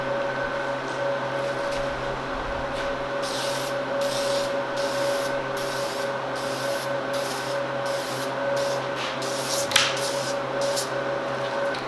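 A spray can lays a second coat of paint on plastic Silverado tow mirror covers, making a steady hiss broken into repeated short bursts over a constant background hum.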